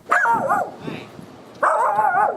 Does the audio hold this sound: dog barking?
yes